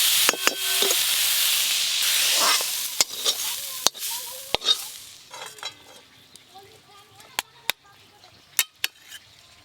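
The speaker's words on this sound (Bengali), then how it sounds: "বেগুন দিয়ে মেথি শাক খুব সুন্দর করে ভাজা হয়ে গেছে" Fenugreek greens and eggplant frying in a pan, with a loud sizzle at first while a utensil scrapes and clinks in sharp, irregular knocks as the sizzle gradually fades.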